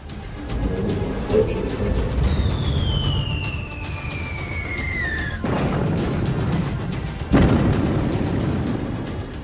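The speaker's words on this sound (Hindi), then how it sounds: "अब ईरान की तरफ से जोरदार मिसाइल अटैक किए जा रहे हैं इसराइल पर" Iranian missile strikes hit Israel, with deep booms and rumbling blasts under a rising and falling siren-like whistle, a sharp explosion cutting in near the end, loud and close.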